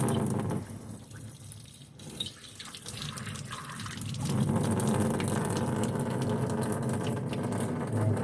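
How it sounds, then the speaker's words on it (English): Clean running tap water rinses soapy residue out of trumpet valves. It makes a steady splashing, gushing flow that grows louder and fuller halfway through, with no voices. "So we're just going to rinse these with clean water as best we can."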